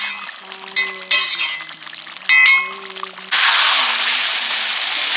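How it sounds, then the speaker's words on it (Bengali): Meat slow-cooked and stirred in a pan over a low flame, with metal spoon clangs and scrapes giving way to a steady, close sizzle. "কম জ্বালানি দিয়ে ধীরে ধীরে মাংসটা কষিয়ে কষিয়ে রান্না করে নিচ্ছি"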